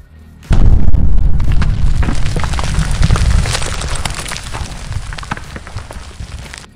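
TNT exploding inside a video game and levelling a house: a sudden loud boom followed by a long rumbling, crackling roll of debris that slowly fades over several seconds.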